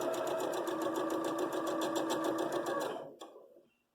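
A sewing machine stitches quilt patches for a disappearing nine-patch quilt, running in a fast, steady mechanical rattle for about three seconds before stopping abruptly, leaving brief faint clicks and then quiet.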